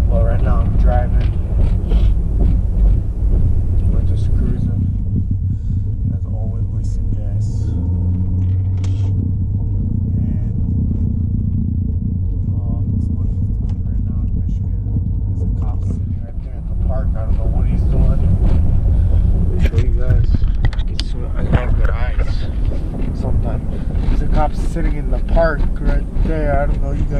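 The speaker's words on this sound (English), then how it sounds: "I'm in my car right now, my Ram truck" Steady low engine and road rumble from inside a moving Ram truck, continuous throughout, with someone talking over it close to the microphone.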